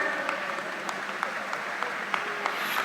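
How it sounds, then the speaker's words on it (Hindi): Steady applause from a crowd, a dense wash of clapping that holds evenly throughout with a few sharper claps standing out. "उनके तालियों से उन हीरोज का स्वागत करें"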